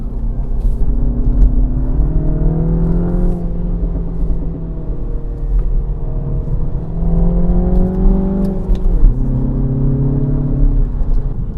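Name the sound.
car engine revving with exhaust popping and banging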